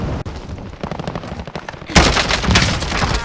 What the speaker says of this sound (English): I included a video of me shooting the weapon.